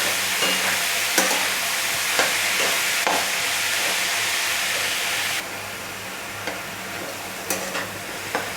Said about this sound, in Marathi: आता कांदा चांगला फ्राय करून घ्यायचा आहे तेलामध्ये